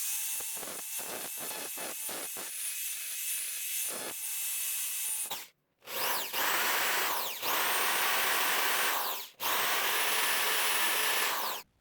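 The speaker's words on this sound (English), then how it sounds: "then we'll start drilling holes" A power drill drilling holes in bed frame steel for a knife blade whirs in short bursts, then runs in longer high-pitched grinding stretches with brief pauses, loud and close.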